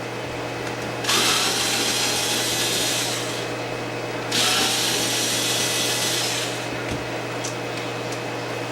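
A power drill unscrews fasteners from an HPI Savage RC car, with two loud, sustained whirring bursts of several seconds each over a steady low hum, close up and without speech.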